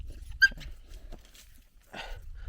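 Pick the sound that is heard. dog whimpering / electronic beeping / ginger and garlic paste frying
dog whimpering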